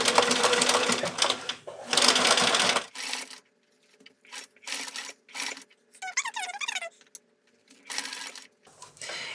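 A sewing machine stitches through thick, dense layers of mitten fabric in bursts of rapid whirring, starting and stopping repeatedly as the material is guided through, with brief squeaky handling sounds between runs.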